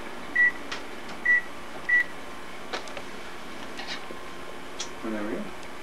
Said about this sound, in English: So we'll just set the timer here for